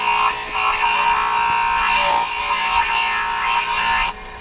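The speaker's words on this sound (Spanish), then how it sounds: "Una vez que ya lijamos, vamos puliendo y vamos dándole forma al arete." Loud, continuous rasping scrape of hand sanding and filing an earring, a steady abrasive rub without clear strokes that stops abruptly near the end.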